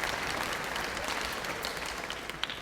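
Audience applause at a summer music camp band finale concert after two young drum set players, a steady wash of clapping from a crowd that holds even and tapers slightly near the end.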